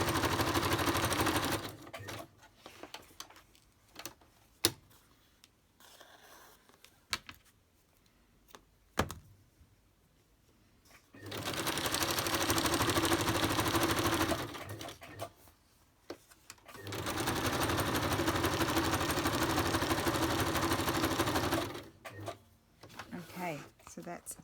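A home sewing machine stitches in two long sustained bursts during paper crafting and ephemera making, loud and steady, separated by quieter stretches with brief clicks and handling sounds.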